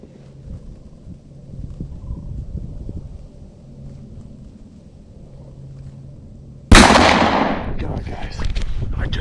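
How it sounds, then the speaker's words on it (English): A single rifle shot rings out while deer hunting on public land, one sudden loud crack followed by a long rolling echo, after several seconds of quiet outdoor background. "I put it right on his head and I pulled the trigger"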